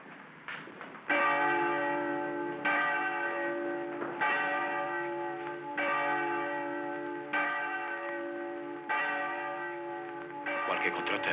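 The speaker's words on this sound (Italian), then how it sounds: "Suonare la campana adesso sarebbe un gravissimo sbaglio." A church alarm bell rings in repeated strokes about every one and a half seconds, each clear metallic clang ringing on and decaying before the next, loud and unaccompanied by speech.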